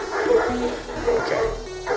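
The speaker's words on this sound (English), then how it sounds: "They're the neighbor's dogs." Neighbor's dogs bark and yip repeatedly in short bursts nearby, a steady rhythm of sharp calls with some whimpering mixed in.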